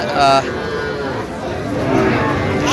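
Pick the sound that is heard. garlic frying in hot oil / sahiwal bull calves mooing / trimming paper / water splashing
sahiwal bull calves mooing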